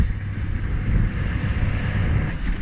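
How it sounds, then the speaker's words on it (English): A small aluminium tinny motors along the coast, its steady engine drone and hull noise wrapped in heavy wind buffeting and water rush, loud and continuous throughout. "today we're out in the tinny, smashing it up the coast"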